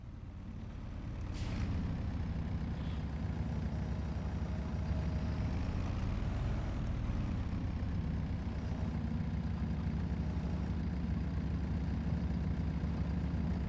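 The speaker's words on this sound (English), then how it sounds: "Bloody tractor wouldn't reverse." A tractor engine in a realistic farm simulator game runs steadily with a deep, continuous rumble after a brief quieter start, holding fairly loud and unchanging throughout with no voices.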